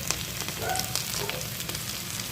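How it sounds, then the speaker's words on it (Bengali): Ginger-garlic paste frying in hot oil for dhaba-style chicken, giving a dense, continuous close sizzle with light crackling throughout and no break. "এগুলো দিয়েও আমি ভালো করে ভাজতে থাকবো এবারে এর মধ্যেও আমি দিয়ে দেব আদা রসুন পেস্ট"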